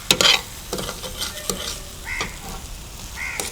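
Mutton sukka being stirred in a frying pan, repeated scraping strokes of a spoon over a steady close sizzle, with a sharp clatter at the start.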